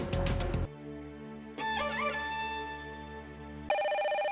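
Telephone ringing with an incoming call at a relatives' house, heard as electronic ring bursts broken by pauses, then a different repeating tone, loud and close with no talking.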